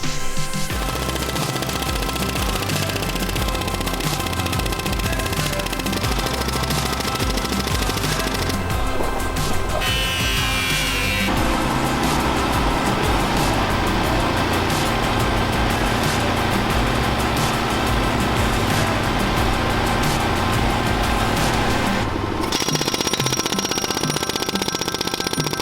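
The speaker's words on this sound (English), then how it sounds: "Good little gadget, this air hammer guide" Loud, rapid pneumatic hammering from an air hammer driving fence posts pounds continuously, a machine-gun-like rattle with engine noise, shifting in tone partway through as posts are driven.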